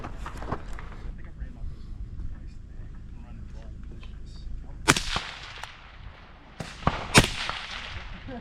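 Rifle shots at an outdoor tactical sniper match, several sharp cracks heard at intervals over low wind noise, with one pair close together near the end; someone talks in the background.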